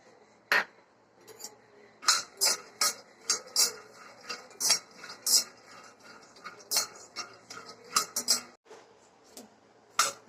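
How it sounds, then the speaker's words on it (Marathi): Peanuts dry-roasting in a pan are stirred with a utensil, giving a rapid series of sharp metallic clinks and scrapes in an irregular rhythm, close and fairly loud. "आता शेंगदाणे भाजून घेऊया"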